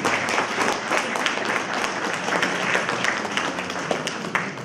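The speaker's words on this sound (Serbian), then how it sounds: "Ja vas molim da sada aplauzom pozdravite brojnu glumačku ekipu" Audience applause greeting the large film cast at a premiere screening in Mali Zvornik; steady, dense clapping from a big crowd fills the whole stretch without pause, with no speech over it.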